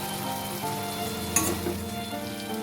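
Fried potato pieces go into a pan of vegetarian banana flower curry (mochar ghonto), bringing a steady close sizzle with one brief clatter from the stirring partway through. No one speaks.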